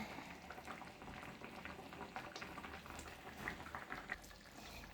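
Seer fish curry with coconut milk simmers in a pot, giving a steady, quiet bubbling and gentle popping that holds unbroken throughout, with no voices.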